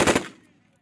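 An M240B or M249 machine gun fires during a military qualification shoot, a single loud, close, sharp report that cuts off quickly and rings out briefly.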